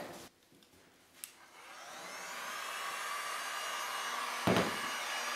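A heat gun on high blows hot air over resin on a 20 x 40 canvas, a steady whooshing roar that rises after a quiet start and holds to the end, with a brief knock midway.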